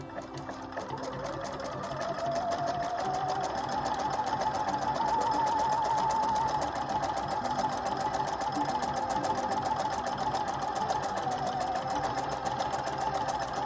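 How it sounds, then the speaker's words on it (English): Husqvarna Viking #1+ sewing machine running a cross stitch pattern, a steady whirring motor with rapid needle clatter that starts after a brief pause and holds loud and continuous to the end. "we'll just do a couple of stitches on this one"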